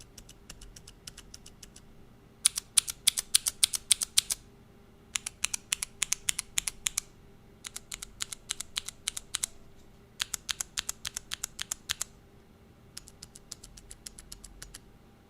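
Typing on Redragon A113 mechanical keyboard switches, quiet bullet-family switches, in bursts of rapid light clicks separated by short pauses, close and alone with no talk.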